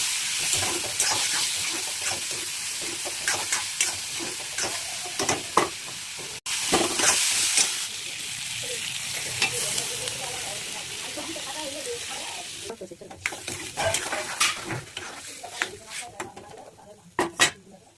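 Food frying in hot oil in a home kitchen, a loud continuous sizzle with scraping stirs and utensil clinks, easing off partway through, while people talk nearby.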